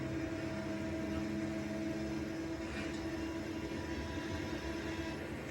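A skid steer loader scooping dirt, its engine droning steadily and close with a constant hum and rumble throughout, no voices.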